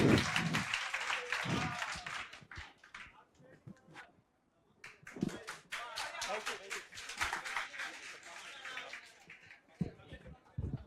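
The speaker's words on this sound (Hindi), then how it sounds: "तालियों के लिए बहुत बहुत धन्यवाद।" An audience at a farewell event claps in bursts, with a brief lull before a second round of applause builds again; a voice speaks briefly over the clapping.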